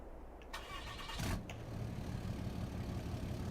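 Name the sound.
truck engine starting in video game Farming Simulator 22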